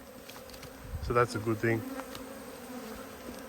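Honey bees hum steadily throughout a beehive inspection on a calm, smoky day, a low continuous drone close by. Someone speaks briefly partway through.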